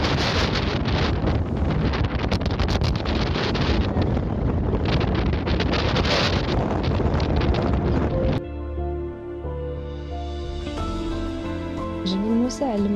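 Strong wind on Jbel Moussa mountain in Morocco roars and buffets the microphone for several seconds, then eases as a voice speaks over calmer air.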